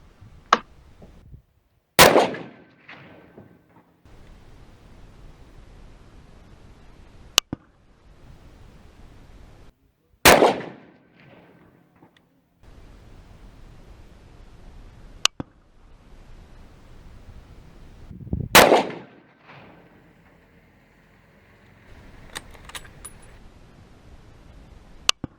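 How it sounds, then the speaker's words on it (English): A rifle fires a three-shot group at targets during zeroing after laser boresighting, with three sharp, loud reports spaced several seconds apart, each trailing off into a brief echo over quiet outdoor background and a few fainter clicks. "shoot another 3-shot group"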